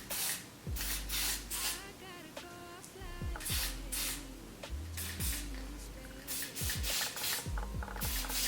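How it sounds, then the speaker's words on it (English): Hair spray hisses onto a wig in short, quiet bursts separated by pauses, mixed with soft handling rustles and faint background noise. "I'm just going to spray a little bit"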